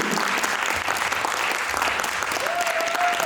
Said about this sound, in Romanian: Doamnelor și domnilor, aplauze pentru clasa pregătitoare Dream Team!